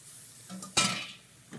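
Chicken stock is poured into a pot for chicken pot pie and whisked in, giving one brief splashing, sizzling burst midway that fades back into a low, quiet background.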